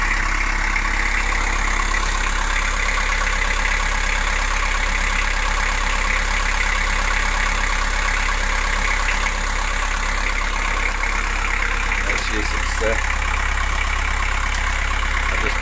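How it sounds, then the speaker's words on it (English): A boat's diesel engine idles steadily and close by with the engine hatch open, a continuous low rumble with a faint rhythmic knock and a few clanks near the end. "I've left the engine running and the engine hatch up"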